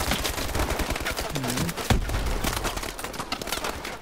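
Rapid gunfire and explosions from the Call of Duty Advanced Warfare video game fill the clip, dense, loud, continuous bursts with a heavy boom near the middle, and a player's voice speaks underneath.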